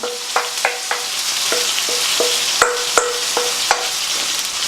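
Fish curry sizzles steadily in a hot pan, close and loud, while a spoon scrapes and taps against the pan in a quick irregular series of clinks as it is stirred.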